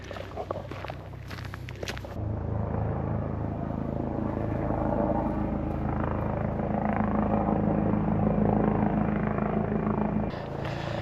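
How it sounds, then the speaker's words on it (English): Continuous low thudding rotor drone of a helicopter passing overhead at night, steady and fairly loud, preceded by brief rustling footsteps. "That bloody helicopter's back."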